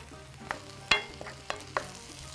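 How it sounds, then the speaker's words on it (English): Onions frying in a pan are stirred in a few quick, separate scrapes over a soft, continuous sizzle, quiet and close. "So I'm mixing this up really good."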